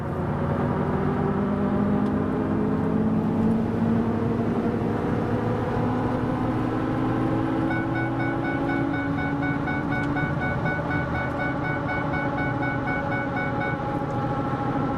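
A 2004 Ford F150 engine, being diagnosed for a cam phaser problem, hums steadily and loudly with its pitch slowly rising under light throttle, with no talking over it.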